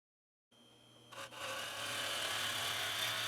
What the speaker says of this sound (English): So a circular wire brush on the end of the drill here.